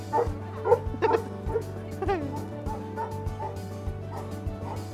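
A dog in Sydney, Australia, gives a run of short, close yips and barks mixed with high whimpers, repeating every half second or so, with a faint background hum.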